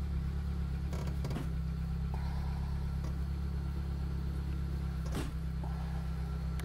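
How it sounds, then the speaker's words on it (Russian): A Volkswagen Golf 3 with a self-adjusting clutch cable and poor gear shifting idles after starting, giving a steady low engine drone with a few faint clicks and knocks nearby. "Сейчас заведем машину."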